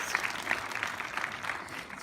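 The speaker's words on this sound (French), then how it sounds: "On peut l'applaudir, elle a amené un cadeau de Noël." An audience applauds at a film premiere screening in Lyon, with a brief run of continuous clapping from a crowd heard from a moderate distance.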